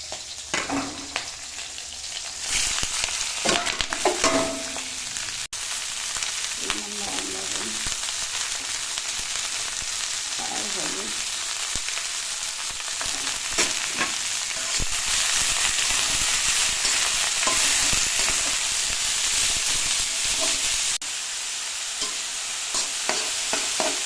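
Bottle gourd peel stir-fried with dried and green chilies in an uncovered pan: a long, steady, loud sizzle with frequent spatula scrapes and stirring knocks, and faint voice traces early on.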